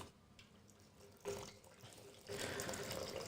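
Water runs and splashes into a vessel while a hot drink is prepared, starting as a soft trickle and swelling twice into louder, fuller pours, close by and with no talking.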